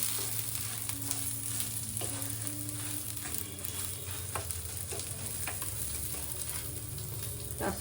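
Steady oil sizzling and crackling of damp curry leaves frying in a pan, with occasional stirring clinks, continuous and close throughout.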